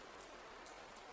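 Steady rain falling outside a bedroom, a soft, even wash of patter with faint drop ticks, quiet and unbroken, no voices.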